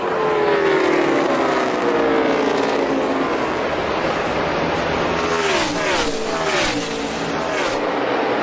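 NASCAR race cars on the final lap of the season championship race, a loud continuous roar of multiple engines with rising and falling pitch sweeps as cars pass close by, no talk over it.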